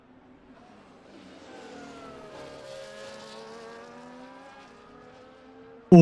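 An F1 race car on a hot lap in the F1 24 game, its engine note rising and falling through the gears at moderate distance, ending in a sudden loud burst.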